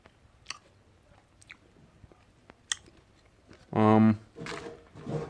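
Roasted sprat fish coated in jerk sauce being chewed and bitten at close range outdoors, soft scattered crunches and smacks, then voices speaking near the end.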